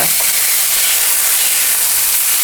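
Salisbury steak patties searing in a hot pan after being flipped give a loud, steady, close hiss of sizzling fat throughout, with no talking.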